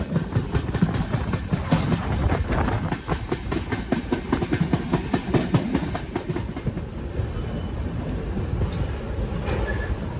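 The Rayalaseema Express rolls steadily along the rails near Tirupati with loud continuous rumble and rhythmic clatter of wheels, close by, fading slightly toward the end.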